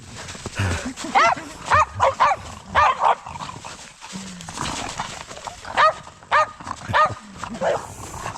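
A dog barks loudly and repeatedly in a forest on a mushroom-picking outing, sharp barks coming in clusters with short gaps, close by and ringing out over rustling footsteps.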